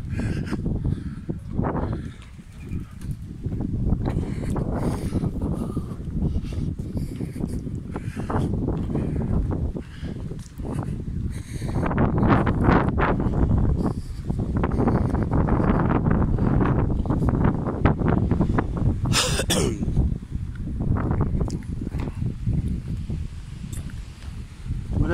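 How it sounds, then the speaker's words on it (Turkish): Strong, gusty wind blowing outdoors by warehouses in Mürefte, a steady broadband roar with buffeting on the microphone, loud and continuous, with faint rustling and a brief bird call. "Bugün burada hava rüzgarlı."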